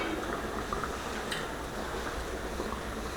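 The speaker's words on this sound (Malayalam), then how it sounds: "അപ്പം ഞണ്ട് തിളച്ച് വന്നിട്ടുണ്ട്" Crab simmering in a covered pot on a Kerala home stove gives a steady, dense bubbling hiss that stays even throughout, with no voices.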